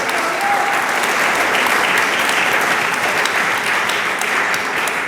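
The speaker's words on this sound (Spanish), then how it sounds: "Dele palmas al Señor." A church congregation applauds steadily and loudly throughout, a dense continuous wash of clapping from many hands with no break.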